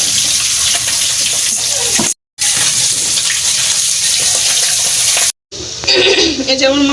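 Rice being rinsed under running water in a home kitchen, a steady loud gush broken by two brief silences, with a rising filling tone near the end.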